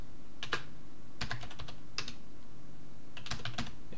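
A password typed on a computer keyboard while setting up Kali Linux on a Raspberry Pi 4, heard as short bursts of quick, close key clicks separated by brief pauses, with no talking.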